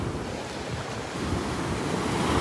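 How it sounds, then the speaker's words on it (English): Gulf ocean waves break along the sand at Delnor-Wiggins beach on a rough morning, a steady broad roar of surf mixed with wind buffeting the microphone, with no talking. "Out in here where those waves are breaking."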